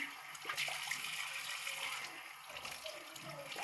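Cold tap water running into a sink while a face is washed, a continuous quiet hiss of flowing water with faint splashes and hand movements close by.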